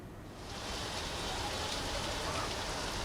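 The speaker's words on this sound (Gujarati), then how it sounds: "એક તરફ 9 વાગ્યાથી વરસાદ ચાલુ છે" Heavy rain pours onto a flooded road in Ahmedabad, a dense, even roar of falling water that swells slightly after the first half-second and then holds steady.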